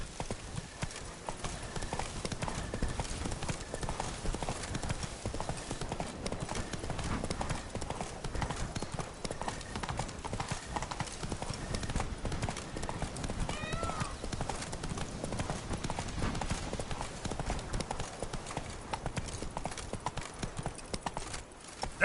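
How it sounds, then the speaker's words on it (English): Roach the horse gallops in The Witcher 3 video game, hooves clip-clopping in a fast, steady rhythm close by, with occasional whinnies over a continuous outdoor game backdrop. "Giddy up."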